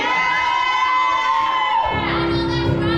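A small crowd at a late-night DJ set cheers and whoops loudly for a few seconds, with shouts and raised voices carrying over one another.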